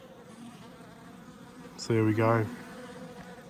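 Honey bees drone steadily at an opened silver beehive with bees in the upper box, a low continuous hum running throughout while someone speaks briefly near the middle.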